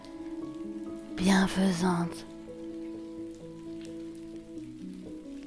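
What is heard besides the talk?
gentle rain falling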